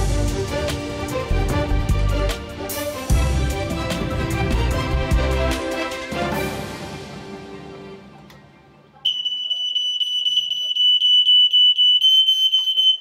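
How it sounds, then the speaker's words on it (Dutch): After a loud, dense burst of other sound fades away, a household smoke detector sounds a piercing, steady high alarm tone that carries on loudly to the end. "Dit geluid hoor je natuurlijk liever niet in je huis, maar rookmelders kunnen wel levens redden."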